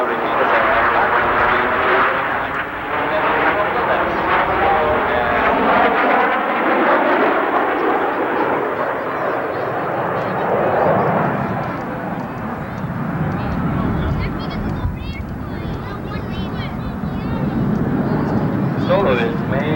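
A Frecce Tricolori solo jet passes at high speed ahead of a snap roll at an airshow, a loud, rising-and-falling jet roar sweeping past with a pitch shift, while a commentator talks over it.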